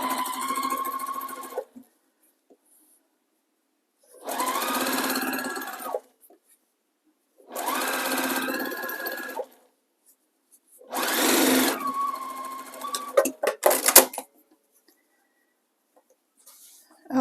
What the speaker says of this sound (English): So I'm going to go ahead and start sewing these together.